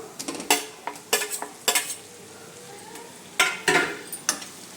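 Tomatoes are added to golden fried onions in a pan while cooking dal fry, with a series of sharp metallic clanks and scrapes of a utensil against the pan and a faint sizzle underneath.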